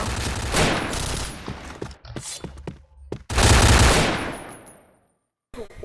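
Gunfire in the online shooter game Point Blank: rapid bursts of automatic fire, loud and close, broken by brief pauses, a heavy fusillade, then sudden silence before another shot.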